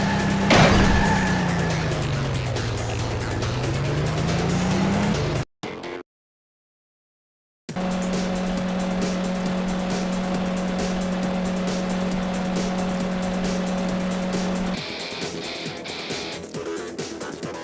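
Car engine in the Nintendo DS game Transformers: Decepticons, a loud continuous drone with pitch sweeping down and back up, then a brief cut to silence, and the engine resumes as a steady high-revving tone.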